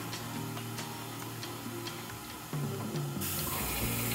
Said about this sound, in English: So let's do our first official Japanese flush test.